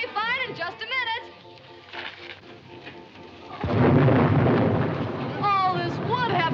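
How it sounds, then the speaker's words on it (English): Thunderstorm with heavy rain: a loud rumbling roll of thunder breaks in midway and a dense downpour follows, with raised voices of people talking both before and over the storm. "The rain is going to ruin the act."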